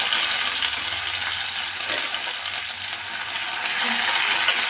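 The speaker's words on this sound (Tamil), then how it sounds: "நல்லா வதக்கணும்." Onions, small onions and curry leaves with dried red chillies sizzle and fry steadily in a hot pan, a continuous close hiss with faint stirring, no talking.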